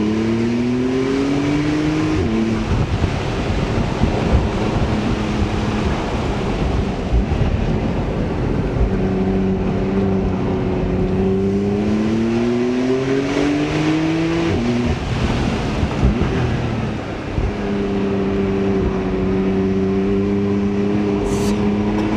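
A 420 hp Porsche 991.2 Carrera S drives along open roads, its engine droning loud and close with repeated rising and falling pitch as the car accelerates and shifts, a continuous throaty roar throughout.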